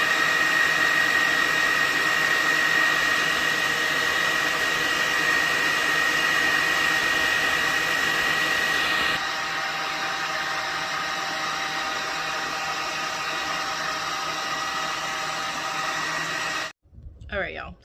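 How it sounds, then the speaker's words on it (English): A hood hair dryer blows with a loud, steady broadband roar that drops slightly in level midway, then cuts off abruptly near the end, followed by a brief faint sound. "I don't want to be under the dryer much longer"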